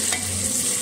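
Onions softening in a pan for aloo matar tahri, sizzling in a steady close-up frying hiss for under a second, with light stirring of the ladle and no voices.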